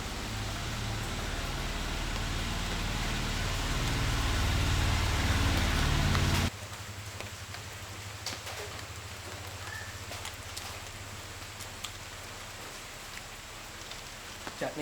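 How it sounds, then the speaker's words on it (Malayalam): Heavy rain falling outdoors, a dense constant hiss that is loud for the first six seconds, then drops to a softer steady patter with scattered drips. "നല്ല കിടുക്കാച്ചി മഴയാണ്"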